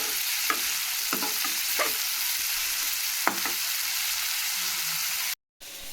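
Onions frying in a little oil hiss steadily while a spoon stirs them, making scattered light clicks and scrapes against the pan. The sound cuts out briefly near the end.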